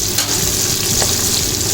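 Five fish sizzle in a pan of hot oil while being fried for a sardine curry, a steady, loud, close hiss with no talk over it.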